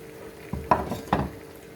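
Onion and tomato with crushed coriander and chili being stirred in a hot frying pan, a soft steady sizzle under a few louder scraping stirs near the middle, close by with no talking.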